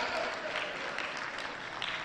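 Audience applause fills a conference hall during an international strategic dialogue on non-communicable diseases and development goals, a steady dense wash of clapping from many hands lasting about two seconds, moderately loud and without talk.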